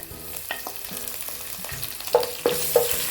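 Slit green chillies, ginger-garlic paste and curry leaves sautéing in oil for Hyderabadi chicken curry, a soft close sizzle broken by a few sharp spatula clinks and scrapes near the end, no one speaking.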